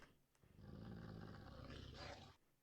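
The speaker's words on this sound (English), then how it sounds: "There's bad dogs upstairs." Hostile wolves in the Minecraft GTNH modpack growl and snarl in a deep, rumbling, continuous stretch lasting a couple of seconds, fairly close and rising slightly toward the end, with no talking.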